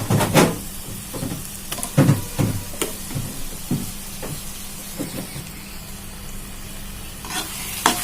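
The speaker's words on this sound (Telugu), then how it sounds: "మనం వేసిన గోంగూరని చక్కగా అండి మసాలాలో ఇది రెండు మూడు నిమిషాలు వేగితే సరిపోతుంది" Cooked gongura leaves stirred in a sizzling masala in a pan, steady frying hiss with several sharp scraping stirs of the spoon, close and loud, no talk.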